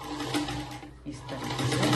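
Sewing machine back stitching a blouse, a short whirring run of needle strokes that pauses briefly midway and then resumes.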